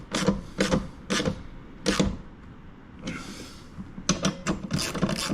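Ratchet wrench tightening the 10mm bolts of a Harley-Davidson tour pack luggage rack: short bursts of rapid clicking, close and distinct, repeated in quick strokes with brief pauses between, plus a softer scraping rasp midway.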